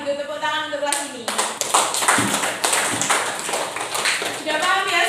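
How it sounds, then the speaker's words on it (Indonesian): A university class applauding during a teaching-practice lesson, a burst of brisk clapping from many hands that fills most of the moment, with a voice talking just before and as it tails off. "Oke, kalau gitu tepuk tangan untuk kelas ini."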